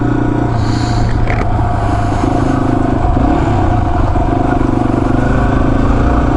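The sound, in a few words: Yamaha XT250 motorcycle riding off-road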